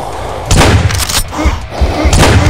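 Rapid gunfire in the Doom video game, a burst of heavy booming shots in quick succession, loud and close, with a brief pause before another round of blasts.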